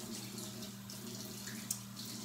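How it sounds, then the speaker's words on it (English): Tap water runs in a steady, faint stream while hair removal cream is washed off skin, with no one talking. "she's going to wash her cream off completely"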